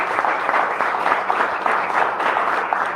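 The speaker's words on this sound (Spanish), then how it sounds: "Un fuerte aplauso para todos ellos," Steady, dense applause from a seminar audience fills the room, even and continuous throughout with no voices over it.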